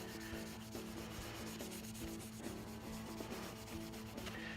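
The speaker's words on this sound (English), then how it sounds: "Once you've dabbed the conditioner onto the fretboard, what you want to do is make sure you wipe up all of it, all of the excess." Cloth rubbing excess conditioner off a guitar fretboard, a steady close scratchy wiping that runs without pause and keeps an even level throughout, with no voices.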